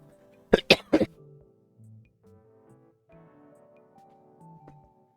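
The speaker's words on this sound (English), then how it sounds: "Coughing fits are lovely." A person's coughing fit: three sharp, loud coughs in quick succession close up, followed by quieter throat-clearing and shifting sounds, with no talk.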